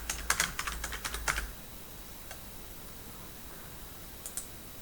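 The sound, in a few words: mouse clicking on a link in accounting software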